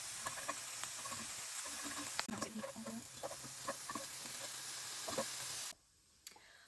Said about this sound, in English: I'm gonna break up this meat the best I can and get it into smaller pieces